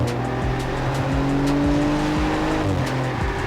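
A 2020 Audi RS4 Avant engine revving hard under acceleration, loud and close, with rising and falling harmonic sweeps as it climbs through gears in a continuous roar.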